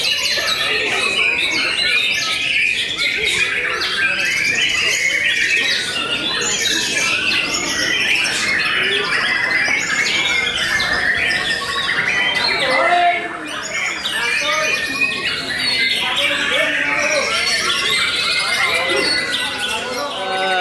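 Many murai (white-rumped shama) songbirds at a bird-keeping setting call continuously: a dense, loud chorus of squawks, chirps and whistles with overlapping voices of people talking underneath.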